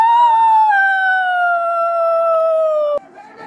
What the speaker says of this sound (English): She's not screaming. She's howling.